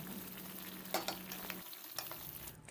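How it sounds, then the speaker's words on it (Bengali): Koi fish simmering in a cauliflower and pea curry makes a soft, continuous bubbling hiss, with a few light clicks and small pops scattered over the short stretch. "মিনিট চারেক পরে মাছগুলো দিয়ে দিচ্ছি মাছ ঝোলে ভালো মতো ফুটিয়ে নিলাম"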